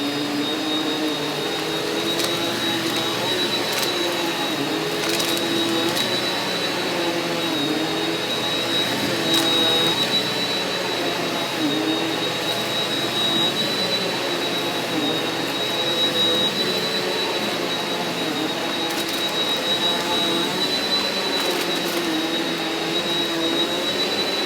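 A Eureka Powerspeed vacuum cleaner running on a floor, a loud steady motor whine with a high tonal hum and faint bumps as it moves, constant for the whole stretch without speech.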